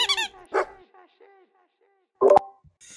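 A dog gives a couple of short barks, one at the start and a louder one near the end, with quiet gaps and faint background sounds between them.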